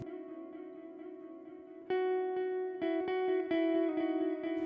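Electric guitar played through an Akai Force with reverb added, sustained chords that ring and blur into a long wash, louder from about two seconds on as new notes are struck over the decaying tail.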